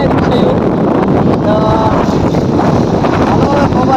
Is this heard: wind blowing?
yes